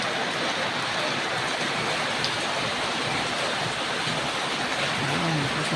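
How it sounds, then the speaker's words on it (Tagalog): Heavy rain pouring down steadily, a dense, unbroken hiss with no pauses, fairly close and constant throughout. "Ayan, lakas ng ulan."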